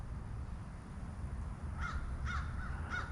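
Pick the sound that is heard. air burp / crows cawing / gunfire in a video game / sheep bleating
crows cawing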